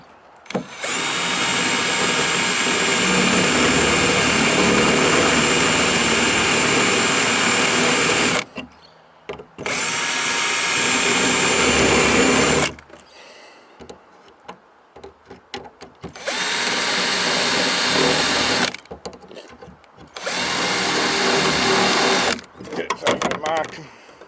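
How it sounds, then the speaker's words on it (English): A loud power drill whines in several long bursts drilling holes in a Toyota Coaster's roof for solar installation, separated by short pauses, with clattering and handling noise between runs. "I'll just drill these holes"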